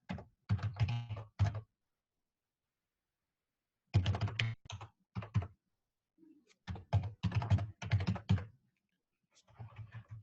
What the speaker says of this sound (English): And I'm typing really slowly